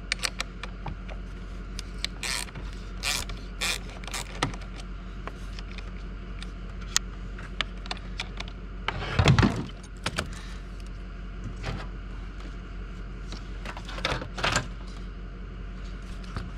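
Metal clinks and light tool taps ring out intermittently as the positive battery cable cover is removed and the terminal loosened on a 2015 Ford Fusion, close and sharp, with a louder clatter of handling midway, no speech.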